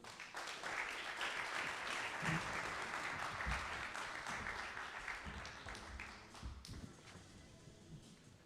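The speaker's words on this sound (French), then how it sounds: "On peut les applaudir." Sustained applause from an audience at a round-table conference in Nantes, steady and dense for several seconds before thinning out and tapering toward the end.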